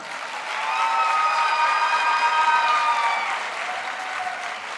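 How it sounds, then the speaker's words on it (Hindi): Warm applause from an audience at a literary stage event welcoming a writer: sustained, full clapping that swells and holds steady, with a faint tonal ring over it, then eases off near the end. "तो आप सबकी मोहब्बत भरी तालियों में मैं अपनी लिखारी बहन नीलम अहमद बशीर को बुलाऊंगी।"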